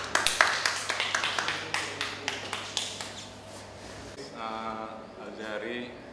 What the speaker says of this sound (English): give applause to your friend